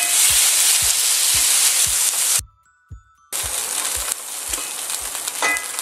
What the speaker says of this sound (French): Voilà, je mélange vite fait.